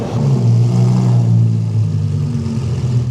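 A Lamborghini V10 with a straight-through exhaust revs loudly up close, a deep rumbling roar that swells and holds before easing slightly.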